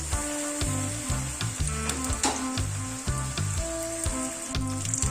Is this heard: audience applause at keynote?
no